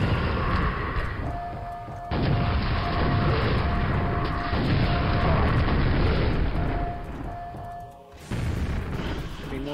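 Grenade explosions in Quake: Scourge of Armagon, loud rumbling blasts that start abruptly and overlap in long booming bursts across the stretch.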